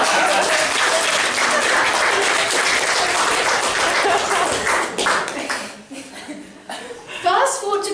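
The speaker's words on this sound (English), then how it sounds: "A round of applause for her, please." Loud audience applause fills a hall during a student's English speech, dense steady clapping for about five seconds before tapering off into scattered claps and murmuring.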